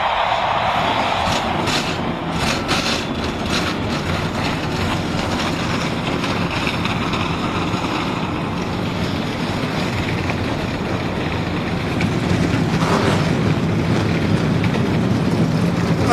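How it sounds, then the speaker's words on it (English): Race car engines firing up at the 2004 Food City 500 stock car race, a heavy, continuous rumbling roar of many motors that swells slightly near the end, with wind buffeting the microphone and no voices. "gentlemen, start your engines"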